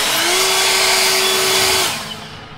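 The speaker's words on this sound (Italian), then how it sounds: "l'attacchiamo qua al soffiatore, diamo una pulita qua" A battery-powered leaf blower, running on a ride-on mower's battery, roars loudly and steadily while clearing cut grass from a lawn, then winds down near the end with no talk over it.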